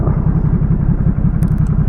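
2017 Ducati Supersport twin-cylinder engine on a road ride, a loud, steady pulsing rumble heard close up with wind noise and a brief high chirp near the end.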